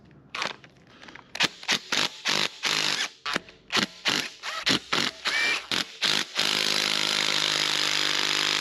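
An impact gun hammers at over-torqued 12 mm manifold bolts on a Subaru Impreza WRX STI in a rapid string of short, loud bursts, then settles into one sustained rattling run, close up.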